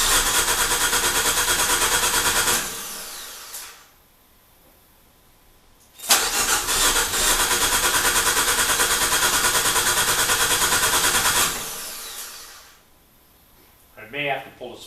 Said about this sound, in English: it's starting to sound like a regular engine cranking.